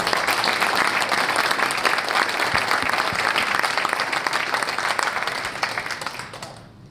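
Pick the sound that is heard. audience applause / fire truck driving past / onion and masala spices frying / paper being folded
audience applause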